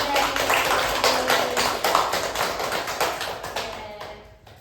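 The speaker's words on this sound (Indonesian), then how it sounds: "Tepuk tangan untuk kita semua" A small group in a group counseling session claps together in a brief, close burst of dense patters that thins out and fades after a few seconds.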